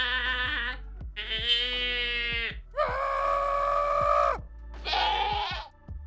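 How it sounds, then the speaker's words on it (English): Four loud, near screaming goat cries from Minecraft 1.18, each a harsh, strained bleating yell lasting about a second, separated by short gaps. "So here are what these screams will sound like."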